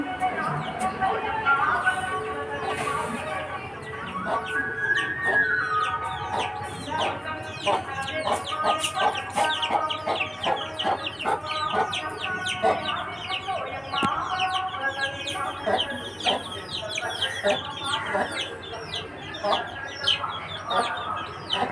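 A flock of country-breed and farm chicks and hens clucks and peeps steadily in a rural village yard, with dense, continuous chirping close by, and a person talks over it.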